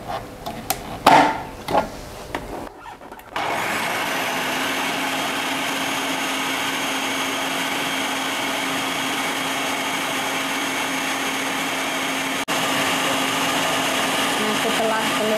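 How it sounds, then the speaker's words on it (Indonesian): A food processor whirs steadily as it beats eggs, a loud continuous motor drone running for most of the stretch after a few short knocks and handling sounds at the start. "Saya menggunakan food processor."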